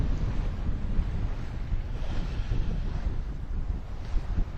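Strong wind buffets the microphone on a sailboat under genoa alone in about twenty knots of apparent wind, a loud, constant roar with faint water wash beneath and no talking.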